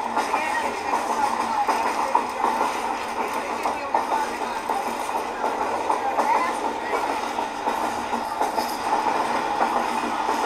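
A Pakistan Railway passenger train rolls along the tracks on a hilly route, with a continuous close rumble and rattle of carriages and rhythmic wheel clatter throughout.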